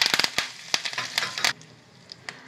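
Curry leaves and asafoetida crackle in hot oil for a phodni, with a quick close burst of sharp pops and sizzles that fades to a quieter hiss after about a second and a half.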